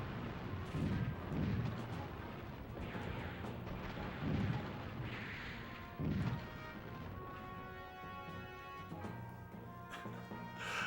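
Stock explosion sounds from a 1990s PlayStation 1 war video game, a string of heavy booming blasts in steady succession, loud and close, with a brighter tonal game sound layered in toward the end.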